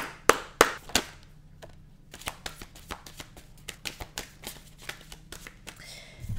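Tarot cards are shuffled and drawn by hand, with a few sharp slaps up front followed by a steady run of crisp riffling taps and flicks, close and fairly quiet, no talking.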